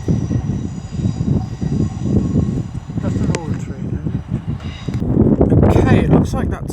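A Class 170 Turbostar diesel train at Derby station, its engine rumbling steadily and building louder near the end while someone talks over it.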